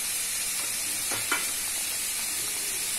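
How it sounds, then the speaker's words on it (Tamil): Paruppu urundai kuzhambu, a lentil dumpling curry, boils steadily in a pot, with a continuous bubbling hiss and one or two faint clicks over the top. "இப்ப பாருங்க இந்த குழம்பு நல்லா கொதிக்குது."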